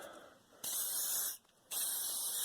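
Aerosol lubricant sprayed onto a rusty old axe in two loud, steady hissing bursts, the first about three quarters of a second long and the second longer, separated by a brief pause, close up with no talking.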